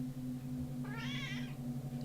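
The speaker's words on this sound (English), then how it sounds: "You can probably hear her meowing." A cat meows once, a clear drawn-out call heard inside a moving train cab over a steady low engine hum.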